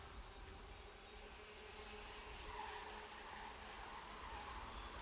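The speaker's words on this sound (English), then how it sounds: "You can hear the Bridgestone tyres searching for grip on this damp Le Mans circuit here this afternoon." Bridgestone kart tyres scrabble for grip on a damp Le Mans circuit during the CIK-FIA Academy Trophy 2017 Round 2 final, a steady, distant roar of karts and hissing tyre noise at low volume, with no voices.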